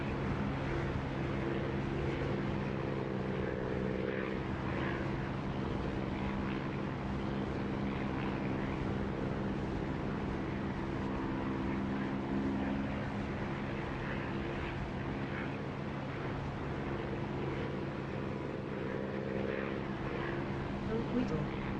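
Steady droning aircraft engine during a landing in a flight simulator video game, continuous and even at moderate level throughout, with a voice talking over it at times.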